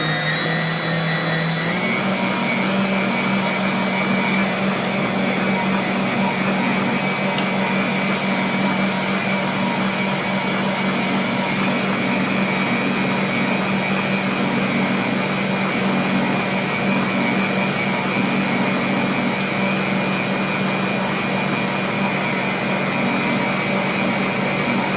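A stand mixer kneads homemade pizza dough with a steady, loud motor whir that holds constant for the whole stretch after a brief start-up, with no voices over it.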